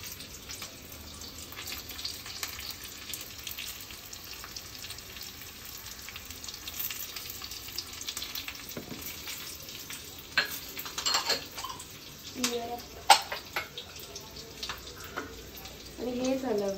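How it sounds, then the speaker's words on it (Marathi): Asafoetida (hing) hits hot oil in a pan for kadhi, giving a faint, steady sizzle with light stirring and scraping clicks that grow busier toward the end. "आणि ह्याच्यात आपण मस्तपैकी टाकणार आहोत हिंग."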